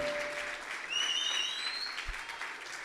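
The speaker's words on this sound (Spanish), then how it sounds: "Fuerte ese aplauso" Applause from a singing-contest audience, steady and moderately loud, with a few faint whistle-like tones and cheers from the crowd mixed in.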